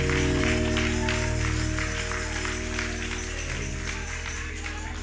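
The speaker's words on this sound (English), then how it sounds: "we ought to just give him another hand clap of praise" Church congregation clapping in praise during a Sunday service, steady dense applause over sustained organ or keyboard chords, loud and continuous throughout.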